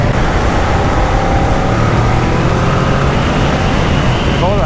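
A Kawasaki ER-6n motorcycle engine, A2-restricted, roars loudly and continuously up close while accelerating hard, mixed with heavy rushing wind noise.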